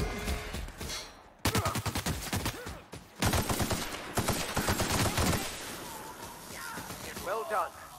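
Gunfire from marauders in The Outer Worlds: loud rapid volleys of shots in two main bursts, with voices and game sounds between and after them.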